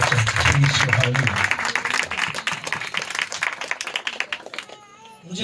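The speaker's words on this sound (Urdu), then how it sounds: "میں چاہوں گا پاک روح کے لیے، روح القدس کے لیے ہم زوردار تالیاں بجا کر خدا کے نام کو مبارک کریں" A church congregation applauds loudly during a sermon, with dense sustained clapping that carries on for several seconds before thinning out, and a voice speaking over it toward the end.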